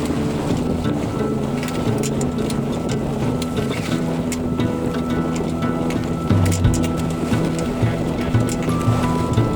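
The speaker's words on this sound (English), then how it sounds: "it's very windy and it's very bumpy" Strong wind roars across a sailboat on rough water in the Blekinge archipelago, Sweden. Constant, loud buffeting mixes with hull and water noise for nearly ten seconds, with no clear talking.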